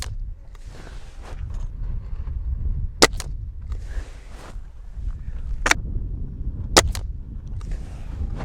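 Five sharp air rifle shots from a SIG ASP20 or Aspen ring out at irregular intervals against a low outdoor rumble, each a crisp close crack with quick decay.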